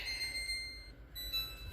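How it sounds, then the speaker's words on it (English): A kitchen timer goes off for baking Hasselback potatoes, giving thin high electronic tones that hold steadily and then break off briefly before resuming, fairly quiet in a home kitchen. "I'll bring you back as soon as the timer goes off for the potatoes."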